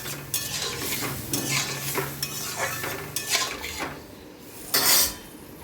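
Water is poured into a pan of frying fish curry: sizzling and bubbling mixed with repeated scrapes and clinks of a spoon stirring against the pan, fairly close, with no talking.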